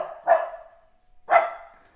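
A dog gives two loud barks about a second apart as a sound effect in a children's bedtime story, alone with no voices.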